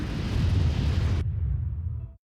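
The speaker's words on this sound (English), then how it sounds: "Francois then heard a muffled explosion" A muffled explosion on a snowy mountainside just before an avalanche: a deep, broad rumbling boom that holds steady for about two seconds, its higher edge suddenly dropping away while the low roar carries on, then cuts out.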